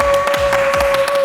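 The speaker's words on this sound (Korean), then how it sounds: "박수 해주세요" Group applause from a small studio gathering of a K-pop club variety segment, dense overlapping claps over a steady electronic tone, fairly loud and brief with no talk.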